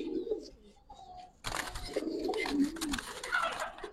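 A female Giribaz pigeon gives soft low coos, then a burst of louder rustling and fluttering joins in about midway, with the low cooing continuing underneath.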